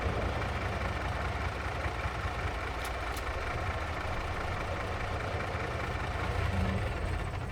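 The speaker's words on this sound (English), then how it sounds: "Let's turn off that engine" A farm vehicle's engine idles in Farming Simulator 22, a steady, dense rumbling drone that holds unchanged throughout with no speech.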